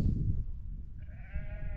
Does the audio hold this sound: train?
no